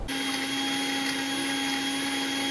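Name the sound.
mixer grinder grinding roasted onion and coconut masala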